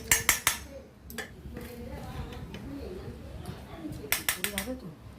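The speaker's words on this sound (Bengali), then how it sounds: "এই দেখুন ভাত দিচ্ছি ছেলেকে।" Metal spoon scraping and clinking against a plate while rice is served for a child, a few sharp clinks at the start and end with softer scraping between, close by, with a bird calling faintly.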